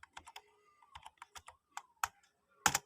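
Keys on a computer keyboard are tapped in a quick, uneven run of sharp clicks, close and fairly quiet, while setting up a MikroTik router, with a faint tone underneath.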